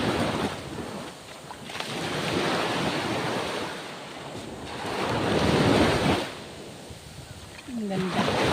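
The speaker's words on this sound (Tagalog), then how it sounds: "Ayan ang hampas ng dagat." Sea waves crash and wash onto a black sand beach at Bagac, Bataan, a loud rolling surge that swells and recedes under heavy wind buffeting, with brief voices and a faint passing tone.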